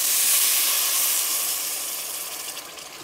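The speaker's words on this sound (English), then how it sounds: "Now I just add the water," Boiling water poured onto rice in a pot gives a steady, loud hiss and rush that slowly fades as the pour ends, with no talking.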